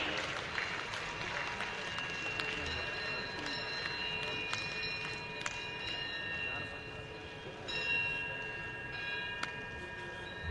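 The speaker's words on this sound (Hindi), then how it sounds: "तालियां हर बार आपकी तरफ से जोरदार होती रहें।" An audience at a government anniversary event claps continuously, a steady spread of hand claps mixed with crowd murmur and occasional clinks, sustained at moderate level throughout.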